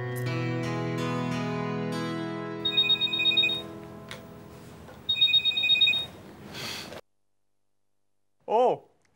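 A telephone rings while a call is placed, a melodic ringtone sequence of bright tones repeating in bursts over a held chord, then a brief pause and a short voice at the end.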